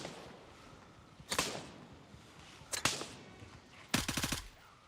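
Bursts of automatic gunfire in the military shooter Gray Zone Warfare: a short burst, a brief sharp volley, then a longer rapid rattle of shots, fairly quiet against a low background, with no talk.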